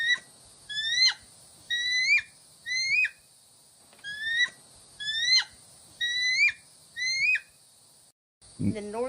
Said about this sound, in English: This is what the bald eagle actually sounds